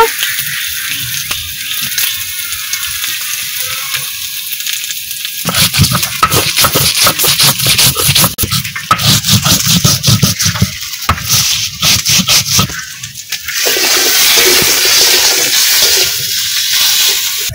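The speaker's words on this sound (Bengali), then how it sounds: "আমি এই যে শুকনো লঙ্কা, ধনিয়া আর জিরে একসঙ্গে বেটে নেব" Dried chillies, coriander and cumin being ground into a paste, with rhythmic scraping and rubbing strokes, loud and close, alternating with quieter stretches and a steady wet grinding near the end.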